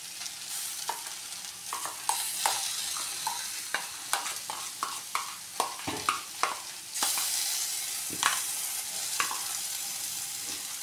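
Poppy seed paste goes into a pan of frying potatoes and onion stalks, giving a run of scrapes and taps over a light sizzle that swells louder as the paste hits the hot pan.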